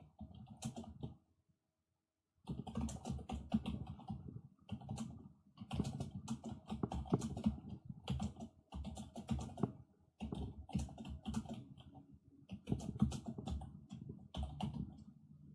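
Steady bursts of typing on a computer keyboard, close and clear, with dense clicking keystrokes broken by a couple of short pauses and no voices.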